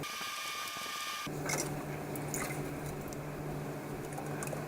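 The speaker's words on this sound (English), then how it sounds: "you can see that oil pour out of there" Engine oil from the drain plug of a 2008 Mustang GT pours steadily into a pan, a continuous close splashing trickle with a faint hum beneath.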